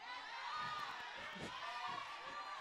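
A church congregation shouts and cheers during a sermon, a lively mass of voices with scattered whoops and calls out in the room, fairly distant and moderately loud.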